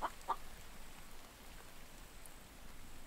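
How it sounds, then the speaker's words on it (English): Chicken in The Infected survival game giving two brief clucks right at the start, close and distinct, over a steady low ambient hiss with no talk. "We got a battle chicken in our yard."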